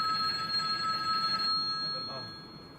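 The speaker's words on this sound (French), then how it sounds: "J'adore cette sonnerie vintage." A vintage telephone bell rings with a steady metallic trill, loud and close, then stops partway through as faint room sound and a brief voice follow.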